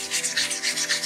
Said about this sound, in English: and we start sanding